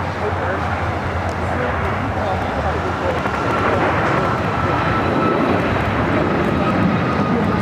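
Heavy, continuous roar of an Antonov AN-124 taking off at LAX, a dense low rumble that swells slightly in the second half, loud and steady without talk.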